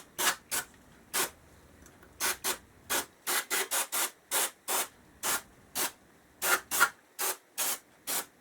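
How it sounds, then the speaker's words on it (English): Carb cleaner sprayed from an aerosol can onto the throttle body of a Suzuki GSX1300R Hayabusa, a series of short, sharp hissing bursts, some single and some in quick clusters, close and clear with no talk. "all I'm using is basic carb cleaner"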